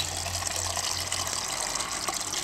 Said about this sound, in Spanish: Vamos a ponerle un poquito de agua.